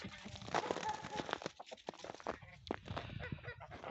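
A goose and other poultry cluck and honk in short irregular bursts close by in a farmyard enclosure, with quiet rustling and scraping between calls.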